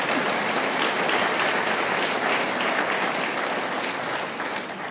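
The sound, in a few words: audience applause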